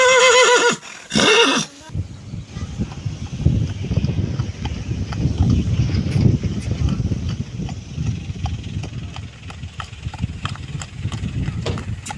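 A Nukra mare whinnies loudly and close at the start, then hooves clop and shuffle irregularly over a low, busy background.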